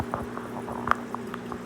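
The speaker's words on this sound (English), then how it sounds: "the water goes through this vent" Water trickles and bubbles steadily through the filter vent of a Biocube aquarium tank, a soft, close, continuous gurgle with small plops and a low pump hum underneath.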